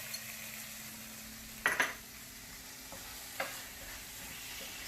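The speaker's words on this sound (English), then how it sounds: "Stir it" Salt being stirred into rajma masala in a pan, with a faint steady sizzle underneath, one brief clatter of the spoon against the pan and a couple of lighter taps.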